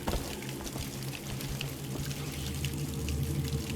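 Water sloshes and churns steadily as a character wades through chest-high water in Dishonored, a continuous close splashing wash with a low droning hum underneath and no speech.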